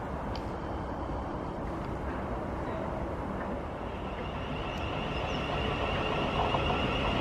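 A South Western Railway train draws into Egham station, a steady low rumble of approaching wheels on track that grows slightly louder toward the end, heard alone without talking.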